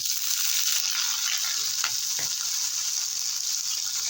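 Steady, loud frying hiss from a pan as food browns for a taro-leaf (kochu pata) dish, continuous bright sizzle with a couple of soft stirring knocks partway through.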